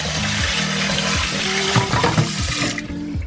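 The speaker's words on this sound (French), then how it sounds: "Hop, toujours mettre de l'eau." Water pours steadily into a pan while chicken curry is being cooked, a continuous close splashing and gurgling stream lasting a few seconds with no talking.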